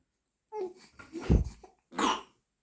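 A small child coughs several times in short, harsh bursts, close to the microphone, with brief pauses between.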